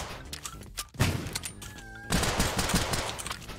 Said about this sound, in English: The weapon sounds are really loud comparatively